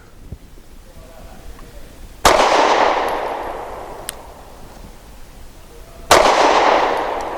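A Sig P365 SAS pistol fires at 7 yards outdoors: two sharp, loud shots about four seconds apart, each followed by a long decaying echo, with a faint click between them.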